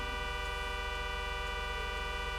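A stuck car horn in a video game blares as one continuous, unbroken steady tone, loud and unchanging throughout, with no talking.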